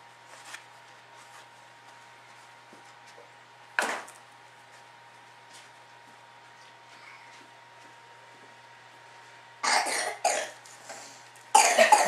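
A few sharp coughs from a young child, one isolated cough early on, then clustered bursts near the end over a quiet background.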